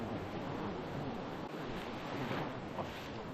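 Ocean surf at a beach rolls in a steady broadband wash, waves breaking close by with wind buffeting the microphone throughout.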